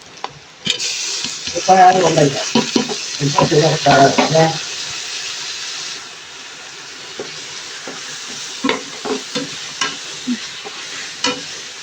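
Onions and tomatoes frying and being stirred in a pan for biryani, with sizzling and scraping spoon strokes, loudest in a burst of stirring early on, then quieter intermittent scrapes.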